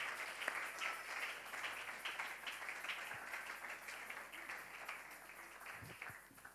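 A church congregation claps and applauds continuously, a dense, fairly distant wash of hands that fades slightly toward the end.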